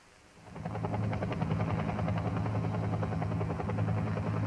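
A UH-1 Huey helicopter flies nearby, its rotor building in over the first half second into a steady, rhythmic thumping drone that holds at a moderate level.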